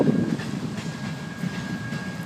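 A steam locomotive rolls along rails at a furnace park, a steady low rumble with faint rhythmic rail clatter, moderately distant and fairly quiet, with no talking.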